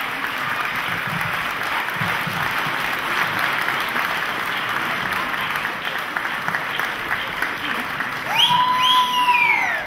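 A large audience applauds a singer after a performance of a song, with dense, sustained clapping that stays loud and even throughout and a brief whistle near the end.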